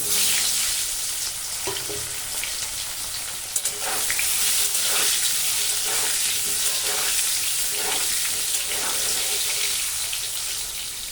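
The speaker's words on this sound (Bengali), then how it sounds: "আমি এখন এটাকে লাল করে ভেজে নেব তেল" New potatoes, skins partly scraped, sizzle steadily in hot oil for a Bengali egg and potato curry, with a few soft knocks of stirring and a faint watery hiss running underneath, close and constant throughout.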